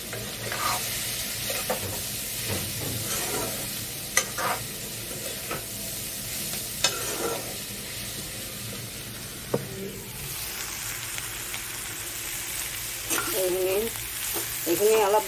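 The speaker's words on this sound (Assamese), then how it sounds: "এইখিনি অলপ দেৰি আৰু ভাজি ল'ম মছলাখিনি মিলাই ল'ম" Spices frying and being stirred in a pan, a steady close sizzle broken by repeated scraping strokes of a spoon, with a brief burst of louder hissing near the end.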